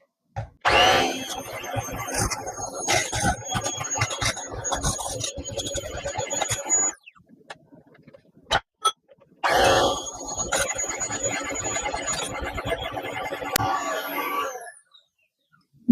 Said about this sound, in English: I'm using an electric mixer because I just don't have a normal whisk